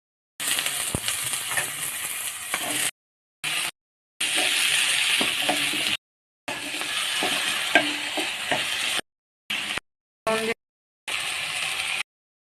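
Onion and vegetables being sautéed with fried prawns in a pan for a kohlrabi and prawn curry: steady sizzling with scraping stir strokes, close and moderately loud, coming in several bursts separated by brief silent gaps.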